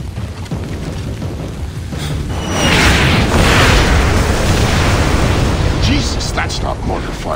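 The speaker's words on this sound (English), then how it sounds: "that's not mortar fire. Sounded like Katushas" Heavy rocket barrage explosions from Katyusha launchers in Splinter Cell: Blacklist, a rising, sustained roar of booming blasts that swells midway and rumbles on, with a few voices briefly calling out near the end.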